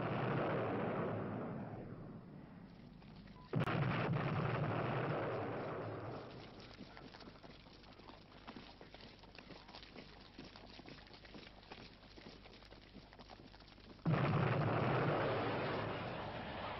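Napalm bombing runs by Ethiopian army MiG-21 and MiG-23 jets over stony mountains during the battle of Naqfa, heard as loud sustained rumbling blasts and roaring bursts, swelling and fading, with no talk.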